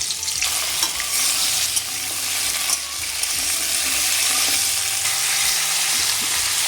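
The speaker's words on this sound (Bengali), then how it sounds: "আগে থেকে কেটে রাখা আলুগুলো ভেজে নেব" Pre-cut potato pieces frying in hot oil in a kadai give a loud, continuous close sizzle, broken by occasional stirring scrapes.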